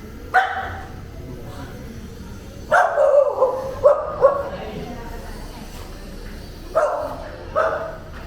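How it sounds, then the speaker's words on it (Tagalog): A dog in a Tondo, Manila neighborhood gives several sharp, fairly close barks, first singly and then in a quick cluster of yips, pausing before two more barks, over a faint street background. "May aso."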